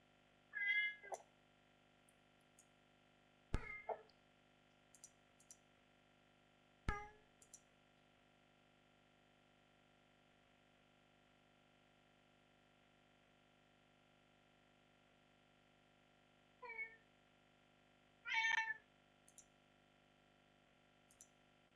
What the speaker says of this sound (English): So there's no problem with Beethoven meowing.